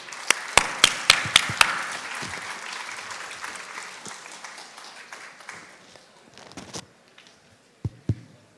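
An audience at an International Women's Day event at IIT Kharagpur applauds as the director takes the stage, sharp individual claps up front giving way to a softer spread of clapping that fades out, with two late claps.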